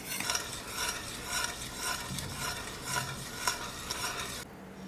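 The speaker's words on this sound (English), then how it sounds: "So you want to stir it in and try to stir out any lumps that you get." Gravy being stirred in a pan to work out lumps, a continuous close wet scraping and swirling with a faint simmer underneath, stopping abruptly near the end.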